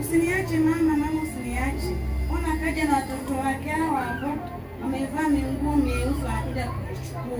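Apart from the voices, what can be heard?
No distinct noise like a dog, phone or traffic.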